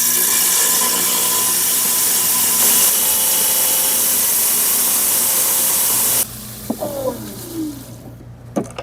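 A saw cuts into an Agua Nueva vein agate with a loud, steady whining hiss that holds for about six seconds and then stops abruptly. Scattered clatters and small knocks follow.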